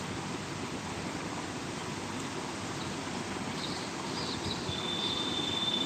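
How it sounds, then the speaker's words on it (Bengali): Steady hiss of rain from Cyclone Remal falling, continuous and even, with a faint high tone near the end. "এই প্রথম বৃষ্টি অনেক দিন পর"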